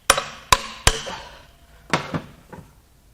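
Hammer taps on a bolt during teardown of a 6.6L LLY Duramax turbodiesel V8 engine head from a Silverado, giving three sharp metallic knocks in quick succession, then a pause and three lighter hits, close and alone.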